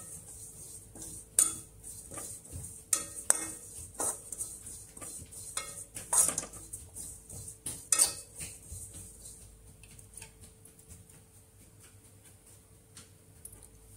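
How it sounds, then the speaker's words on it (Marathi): Dry carom and dill seeds rattling and scraping in a pan, with irregular clinks of a spoon against metal, loud at first and gradually settling into faint stirring. "आता याच कढईत मी ओवा आणि शेपा भाजून घेते"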